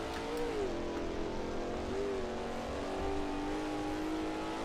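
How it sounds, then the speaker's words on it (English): A race car engine in Assetto Corsa hums and shifts pitch as it drives through a valley, the sound steady and moderately loud with a reverberant, echoing quality and no voices. "Pretty nice that you can hear the like reverb of the car through the valley sort of section."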